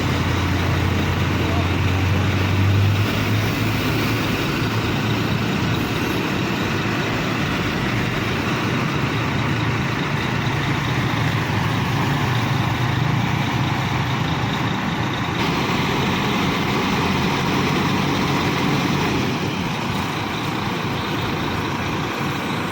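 A Putra Pelangi bus rolls past without stopping, a loud continuous engine roar and road rumble with a heavy low drone at the start, steady throughout.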